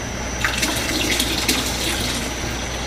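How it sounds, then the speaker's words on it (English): A hose runs water steadily into a 5-gallon homebrew batch, giving a continuous splashing, gurgling flow at close range with no talk over it. "we shall add enough water"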